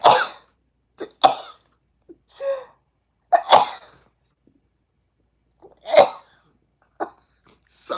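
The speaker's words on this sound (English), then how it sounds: "Oh, excuse me, I'm going to sneeze." A series of separate sneezes and sharp bursts, a few seconds apart, with short breaths and quiet pauses between them.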